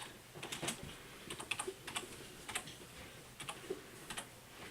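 Someone types on a computer keyboard for a Kano Raspberry Pi kit, the keys clicking in quick, uneven clusters, close but fairly quiet, over faint room noise.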